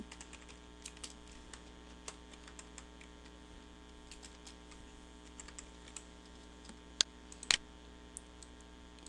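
Quiet typing on a computer keyboard while entering text in AutoCAD, a steady run of soft key clicks with a few sharper taps near the end, close and alone over a low background hum.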